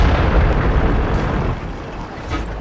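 A tank gun shot in the World of Tanks video game, a single loud boom that trails off into a rumbling low-frequency tail, alone with no talk.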